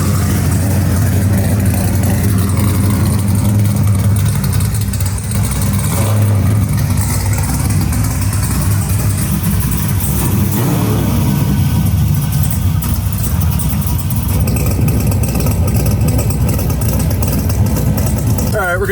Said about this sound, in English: Crazy loud. Sounds like a friggin' NASCAR for the street.